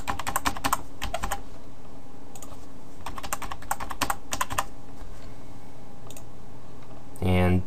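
Keys clatter on a computer keyboard in short bursts of quick taps separated by pauses, close and fairly quiet, as a password is typed; a louder thump closes the sequence.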